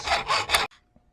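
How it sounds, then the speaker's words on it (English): A hacksaw cuts a slot in a metal piece with three quick, loud rasping strokes close by, then stops abruptly into near silence. "I decided I'd just open that slot up on the metal piece a little bit with a hacksaw"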